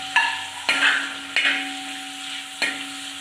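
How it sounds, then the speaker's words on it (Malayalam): Onions and green chillies are stirred as they fry in a pan for a home-style Kerala chicken curry. A steady sizzle runs throughout, broken by four sharp scraping knocks of the spoon against the pan. No one speaks. "എന്നിട്ട് നല്ലോണം വഴക്കണം"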